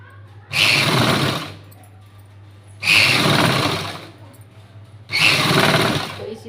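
A sewing machine stitches a blouse sleeve seam with a firm straight stitch about half an inch from the edge. It runs in three short, loud bursts of about a second each, separated by pauses over a low steady hum.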